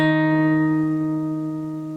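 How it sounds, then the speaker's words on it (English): A single note sounded together in a low and a high register an octave apart, a sustained harmonic tone ringing clearly alone and slowly fading out. "it's just the same note in a low register and a high register"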